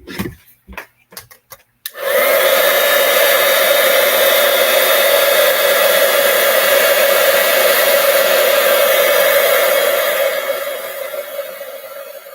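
A heat tool blasts steadily at close range to melt embossing powder on a card, a loud continuous blowing whoosh starting after a few quiet handling clicks and easing slightly near the end.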